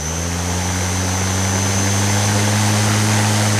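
A brushless DC motor spinning at high speed on a controller test, a loud continuous steady whine with a strong hum underneath, unbroken throughout and without voices.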